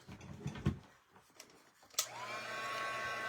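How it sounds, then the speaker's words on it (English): A few soft handling clicks and taps give way to a heat gun switching on with a sharp click and then blowing a steady, loud whooshing stream of hot air over stamped paper. "I have to turn on my heat gun."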